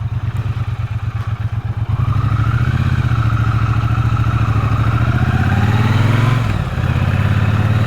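Triumph Bonneville T120 motorcycle engine running steadily, a rhythmic idle at first that swells into a louder, sustained revving roar as the bike pulls away, close and continuous with no talking.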